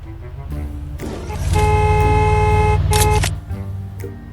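Loud car horn in a video game, honking in a couple of short toots and then held in one long blast of a second or two, over a steady engine rumble.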